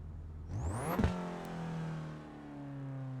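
A front-wheel-drive race car engine in the iRacing simulator revs sharply up, then the RPMs fall slowly in a long, drawn-out descending whine. The engine note is fairly quiet and there is no speech.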